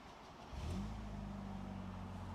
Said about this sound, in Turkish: Exhaust sayesinde ses de oldukça güzel.